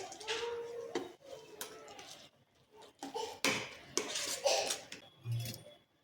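A spoon stirs gram-flour dhokli batter with a little oil in a metal pot, scraping and clinking in irregular bursts with short pauses between, close and fairly quiet.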